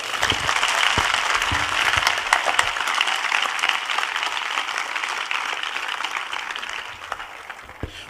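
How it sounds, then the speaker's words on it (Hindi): A church congregation claps loudly together, a steady, dense roar of many hands that holds for several seconds and slowly tapers, with no talk over it. "आइए हम सब यीशु के लिए ताली बजाएं जोर से।"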